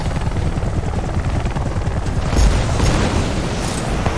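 A helicopter in the co-op shooter Army of Two: The Devil's Cartel gives off a loud, steady rotor thump and engine rumble for the whole clip, with a heavy boom swelling partway through amid combat noise.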